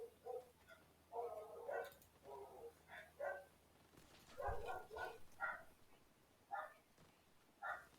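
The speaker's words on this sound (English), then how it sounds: "Please excuse the dogs barking." Dogs bark repeatedly nearby in uneven bursts, some rapid clusters and some single yips, with short quiet gaps between them and a low hum underneath.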